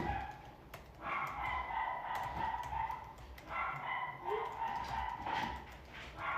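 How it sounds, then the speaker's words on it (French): A small dog yaps and barks repeatedly indoors in a home, sharp yips at a moderate distance with a whiny edge, no voices over them. "Le chien qui jappe."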